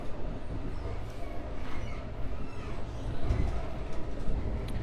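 A steady, rumbling roar of a Brightline train rolling along the tracks, heard from inside, with faint rhythmic clatter and a low continuous hum.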